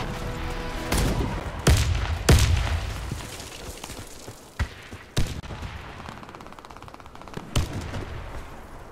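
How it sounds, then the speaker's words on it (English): Frag grenade going off in the shooter game Warface during a bomb-plant round: a sharp, heavy blast among several other loud booming reports and cracks of gunfire, spaced irregularly across the stretch. "Grenade! Frag out!"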